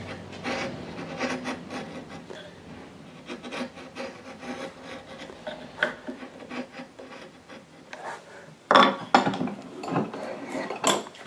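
A hand tool rasps and pares away saw marks from a wooden dovetail joint, producing repeated close scraping strokes in an uneven rhythm, with sharper, louder scrapes toward the end.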